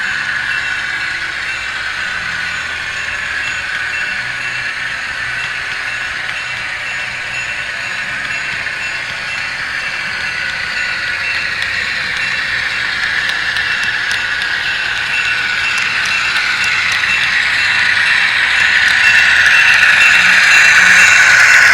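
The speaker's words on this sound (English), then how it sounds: "let's go ahead and give clearance to the commuter to continue on its eastbound leg" Commuter train running steadily eastbound, a continuous rumble and rattle of rail wagons with a faint high squeal, growing slightly louder toward the end, no talk.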